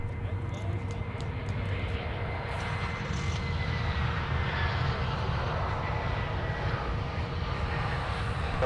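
A Delta heavy jet airliner on runway 12 right at Minneapolis airport, its engines a continuous loud roar with a steady low drone, while indistinct radio voices run underneath.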